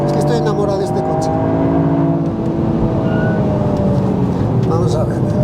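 A 2024 Toyota GR Yaris engine pulls hard on a track, a steady loud drone with rising harmonic tones as it accelerates, heard up close from inside the car under a voice talking.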